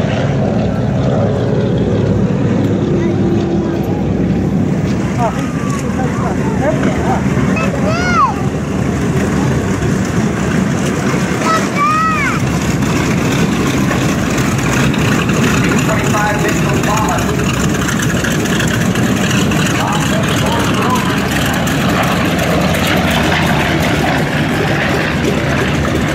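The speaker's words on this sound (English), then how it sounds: "Listen to the difference in the sound of the twin-engine B-25" Twin-engine B-25 bomber at a Houston air show, its piston engines droning steadily and loudly for the whole stretch, a broad rumbling roar with crowd and commentary voices mixed faintly underneath.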